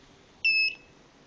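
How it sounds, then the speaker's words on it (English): A rotary head drilling controller gives a single short, high-pitched electronic beep marking the end of the last drilled hole, loud and clean against a quiet background. "Drill the last hole, and the beeps will tell that it is finished."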